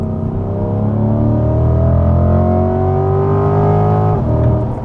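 A 2020 C8 Corvette with its 6.2 liter V8 and performance exhaust accelerates hard at full throttle, the engine note climbing steadily and loudly before a brief drop at a shift, no talking over it.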